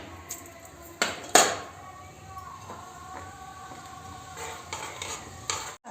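Cumin seeds dropped into hot oil in a pan for chicken korma, giving a couple of sharp clatters near the start and then a faint, steady sizzle with light utensil clinks, no talking.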